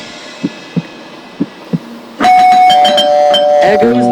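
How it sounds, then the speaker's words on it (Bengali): A few soft taps, then a doorbell in the video game Scary Teacher 3D rings loudly with bright, ringing chimes that sustain and overlap for a couple of seconds. "কলিং বেল দেখে টিপ দিই"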